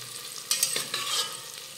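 Chopped onion sautéed and stirred in a pan while making Maharashtrian vangi bhat (brinjal rice), a soft hiss of frying under a few scraping stir strokes, close and fairly quiet, with no talk.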